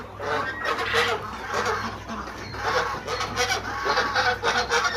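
Chickens and other fowl on a small home farm cluck and call steadily throughout, a busy layered flock sound with repeated squawks, close and fairly loud, with a low steady hum underneath.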